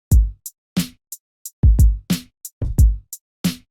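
Boom bap hip hop drum beat programmed in Ableton Live, played straight without swing: punchy kicks and snappy snares with ticking hi-hats in a rigid, evenly spaced pattern, loud and upfront with no voices.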